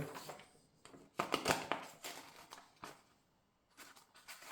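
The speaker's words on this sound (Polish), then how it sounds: "Możemy spróbować wkręcić papier." Irregular mechanical clicks and ratcheting scrapes as paper is wound into an Imperial D typewriter, close by and moderately loud, with a brief burst of rustling and clacking in the middle and pauses between.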